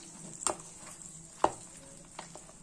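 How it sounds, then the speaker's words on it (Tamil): A spoon stirs nut and raisin tempering for bread halwa in a pan, with a few soft scraping clinks over a faint background sizzle. "இப்போ இந்த தாளிப்பெல்லாம் மிக்ஸ் பண்ணிக்கலாம்"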